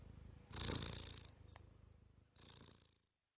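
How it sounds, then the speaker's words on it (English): A cat purrs close by in two rough, rumbling bursts separated by a quieter stretch, then falls silent. "Oh, lovely cat."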